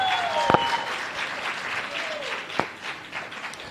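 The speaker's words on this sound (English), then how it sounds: "One more time, let's give her a round of applause" Audience applause after a poetry performance at a press briefing, with moderate, continuous clapping, a few sharper claps and faint background voices mixed in.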